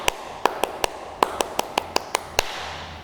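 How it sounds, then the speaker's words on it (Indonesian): Scout children perform the rhythmic tepuk pramuka clap: about eleven sharp, close claps in an uneven patterned rhythm, some quick pairs and pauses between groups, over a quiet background with no talking. "Ayo kita tepuk pramuka."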